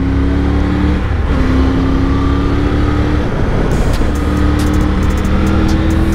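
A Bajaj motorcycle accelerates hard to overtake on a mountain ride toward Zanskar, its engine note climbing loudly with a brief dip and rise, heard close amid rushing wind.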